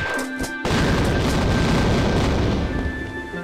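A shotgun fires in the video game Tomb Raider Unfinished Business, one loud booming blast after a few short clicks, followed by a long, heavy rumbling tail.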